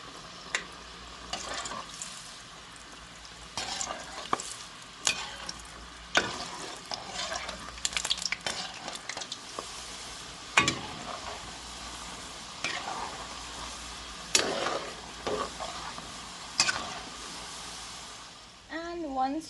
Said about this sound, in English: this is definitely the safer way to place your kurma into this hot oil.